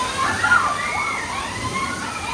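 Water sloshes and splashes steadily on a SeaWorld San Diego boat ride, a continuous rushing wash with a louder surge early on, while people talk over it.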